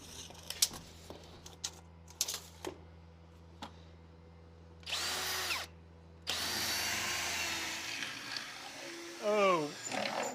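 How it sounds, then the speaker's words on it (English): A power drill bores a pilot hole down through a floor in a ranch house, coming in as louder whining bursts after a few sharp knocks, with speech present. "So what we're going to do first is go up and drill a pilot hole down."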